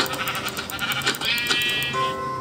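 Sheep in the video game Minecraft bleat in a few short wavering calls over game sounds and a chiming tone, fairly close and clear.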